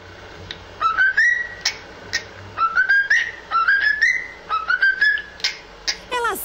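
A cockatiel whistles a song indoors, rising melodic phrases repeated in short bursts, clear and close against a quiet background hum.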